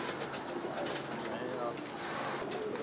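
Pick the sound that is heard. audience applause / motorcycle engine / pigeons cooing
pigeons cooing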